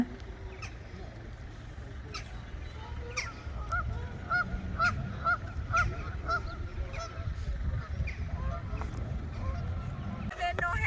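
Geese being fed at Caerphilly Castle in Wales honk repeatedly in a loose burst of calls at mid distance, with outdoor ambience and faint traffic underneath and someone talking briefly.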